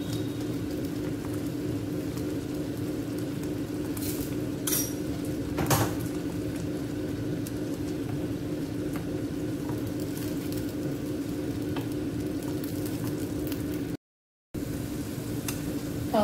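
Masala with tomato gravy and salt sizzling and roasting in hot oil in a pan on a home stove, a steady close frying hiss with occasional utensil clinks, interrupted briefly by a short gap near the end.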